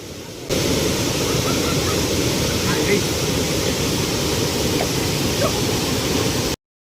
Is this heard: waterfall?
yes